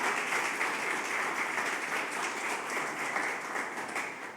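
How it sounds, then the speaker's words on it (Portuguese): A church congregation claps for the Lord during a Sunday celebration service, a dense, even wash of many hands that holds steady for several seconds before easing slightly at the end. "Dê uma forte salva de palmas ao Senhor, aleluia."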